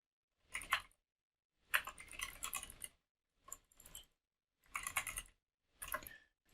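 Bursts of typing on a computer keyboard: short clusters of crisp key clicks separated by brief pauses, close and fairly quiet, with no talking.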